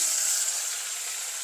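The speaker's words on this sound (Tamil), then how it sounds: "ரெண்டும் நல்லா கொஞ்சம் பொரியட்டும் அண்ட் பூண்டு சேர்க்குறான் பூண்டும் புதினாவும் கொஞ்சம் சேர்க்குறான்" Garlic and mint fry in a pan for egg curry, a steady, close, hissing sizzle that holds evenly throughout without any voices.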